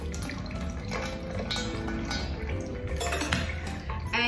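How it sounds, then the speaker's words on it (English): Rinse water swirls inside a Turkish tea pot and is tipped out, with sloshing and splashing mixed with light clinks of the metal pot, close and continuous. "Give it a swirl and you tip it out"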